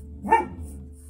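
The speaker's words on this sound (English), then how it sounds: "Sorry, that's my dog." A single sharp dog bark rings out nearby, followed by a faint trailing whine against a quiet background.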